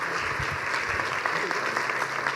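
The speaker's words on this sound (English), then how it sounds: "That was your applause for your Spanish." Festival audience at the Cartagena de Indias International Film Festival breaks into sustained applause, a loud, even wash of many hands with a low voice briefly heard underneath.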